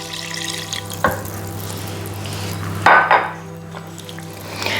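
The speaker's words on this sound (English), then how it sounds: "we're folding this through just to make sure there's no flour and no lumps" Milk and poppy seeds are folded into citrus cake batter, with soft wet stirring and scraping against a bowl, a couple of louder clunks of the utensil, and a steady low hum in the background.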